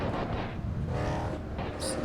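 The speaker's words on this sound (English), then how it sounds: "It sounds like this car is just falling to pieces." Six-wheeled race car in the Assetto Corsa driving game, its engine droning steadily with rattling, clattering mechanical noise throughout, heard close and alone without talk.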